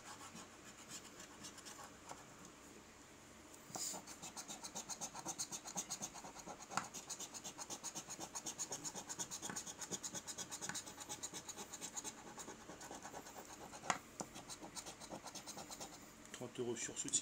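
A scratch-card lottery ticket is scratched with a steady, close, dry rubbing rasp that runs almost without a break, with a few sharper scrapes standing out.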